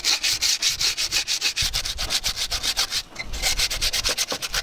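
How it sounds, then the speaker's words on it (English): Sanding on wood on a boat, stripping back old sealant and adhesive. The rough, rhythmic rubbing strokes repeat steadily and close up, with a brief pause near the middle and no talking. "I'm going to start by sanding back the areas I need to stick the wood back onto"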